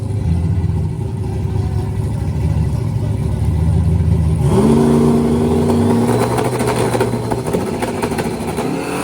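Ford Mustang race car engine on a track, a steady loud drone that climbs in pitch midway through as it accelerates, with other engine noise and crowd or commentary sounds mixed in.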